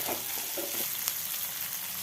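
Chopped onions and green chilies fry for rava upma, a steady close sizzle with a few soft stirring scrapes early on, moderately quiet and without talk.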